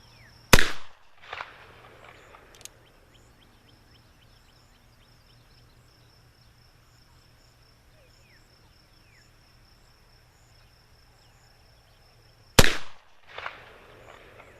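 Remington New Model Army black powder revolver fired outdoors: two loud, sharp cracks about twelve seconds apart, each with a brief echo, with steady cricket chirping in the background and no talking.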